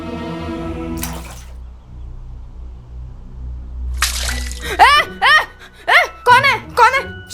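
A burst of water is splashed over a sleeping person, breaking in after a musical passage with a broad, sudden splash, followed by a startled voice and more speech.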